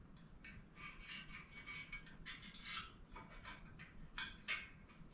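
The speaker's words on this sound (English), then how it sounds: "clean this metal up real quick about where I'm going to need it" Metal being cleaned up before welding, a steady scraping, rasping rub repeated in quick strokes, fairly faint and close, with a couple of sharper scrapes near the end and no talk.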